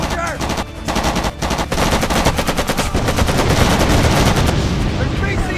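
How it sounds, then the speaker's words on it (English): Dense, continuous machine-gun and rifle fire from a 2006 war shooter video game, Made Man, rattling loudly and without pause through a jungle firefight, with a faint voice underneath. "they'd taken heavy losses and were coming under some pretty heavy fire"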